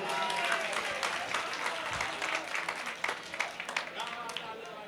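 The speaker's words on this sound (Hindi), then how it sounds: "जोरदार ताली बजाइए" Faint applause from the audience at an All India Mushaira poetry gathering, a dense patter of many hands with some voices mixed in, growing more scattered toward the end.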